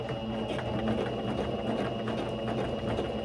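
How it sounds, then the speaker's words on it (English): A sewing machine runs continuously while stitching a straight line on a tutu skirt, a steady fast mechanical whir with no pauses. "you just start sewing the straight line just like you did with your bottom layer"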